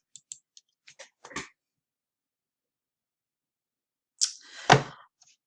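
A computer mouse clicks on a link: a handful of light, quick, close clicks in a short sequence, then a brief louder rustling burst after a silent pause.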